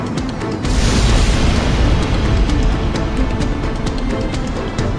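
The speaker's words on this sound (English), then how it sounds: "Cannon firing!" A heavy cannon fires in Ace Combat X, a sudden deep boom that swells into a sustained roaring rumble lasting several seconds, loud and alone with no voices.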